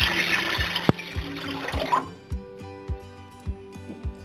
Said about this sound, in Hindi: अब हम इसमें ऐड करेंगे एक जग पानी या एक लीटर पानी आप कह सकते हैं